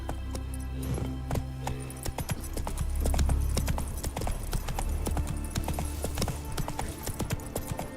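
Roach, the horse in The Witcher 3, gallops with a steady, close run of clip-clop hoofbeats over a low, sustained game backdrop.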